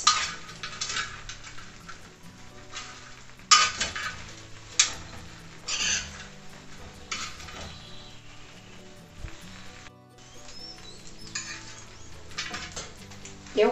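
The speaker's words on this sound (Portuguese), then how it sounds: "A gente vai juntar as carnes com esse arroz." Rice is stirred together with meats in a plough-disc pan for arroz carreteiro, with repeated metallic scrapes and clinks of a utensil against the disc over a soft sizzle, the strokes irregular and fairly close.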